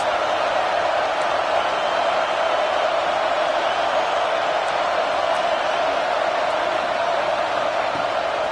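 Stadium crowd in the video game NCAA Football 26 getting behind the defense on a big third down; a steady, unbroken roar of massed voices that holds at an even level throughout.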